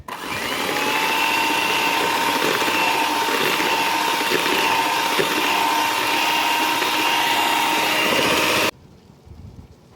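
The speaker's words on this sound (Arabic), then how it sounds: "غادي نطرب البيض ديالي هنايا كما كتشوفوا، غادي نطربو بالطراب" An electric hand mixer whirs steadily while beating eggs for a cocotte-baked cake, a loud continuous motor drone that cuts off near the end, leaving quiet room noise.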